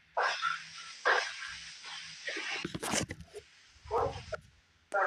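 A puppy barking and whimpering, with several short yips and whines in bursts, close and fairly clear amid background noise.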